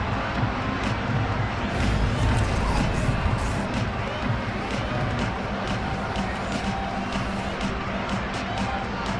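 A home crowd roars and cheers through a stadium at an NFL football game between the Broncos and Seahawks, a steady dense wall of voices that swells slightly early on and stays loud throughout.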